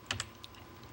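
Brief burst of typing on a computer keyboard: a few quick, close key clicks in the first half second, then a faint trailing tap over quiet room tone.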